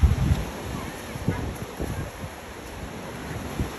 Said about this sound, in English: Look at that big ass wave. They said the tide is high right now.